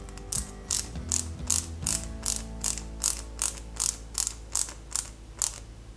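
A ratcheting driver clicks in a steady rhythm, about a dozen sharp close clicks, as a PS05 screw is driven into a Bugatti Veyron 16.4 Super Sport scale model, with no speech.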